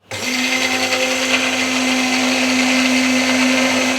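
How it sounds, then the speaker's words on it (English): A handheld immersion blender whines loudly and steadily without a break, emulsifying a lemon and sugar mixture as olive oil is drizzled in. The motor tone stays constant and close throughout. "Immersion blender goes in, we turn it on, and we slowly drizzle in the oil as we emulsify it."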